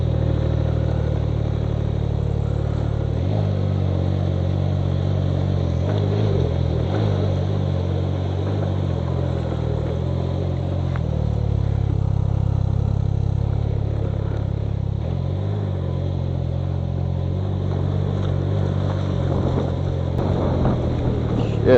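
A Can-Am Ryker three-wheel motorcycle cruises along with a steady low engine drone and shifting pitch, wrapped in wind rush over the microphone and close up the whole time, with no talking.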